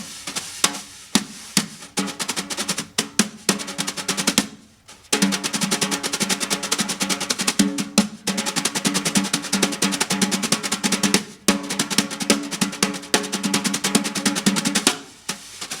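Drums imitate Sammy Davis tap dance combinations in rapid, crisp rhythmic figures, played loud and close, with brief pauses between phrases.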